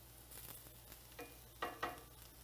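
Onions fry and are stirred in a pan, giving a soft, steady sizzle with a few quiet scraping stirs near the end.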